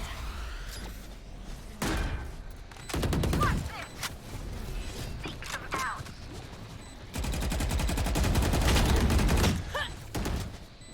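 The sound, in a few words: wall bang gunshots in video game Valorant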